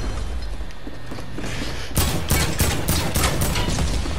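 Rapid burst of pistol gunfire in Fortnite, a string of sharp, loud shots in quick succession following a quieter stretch of game ambience.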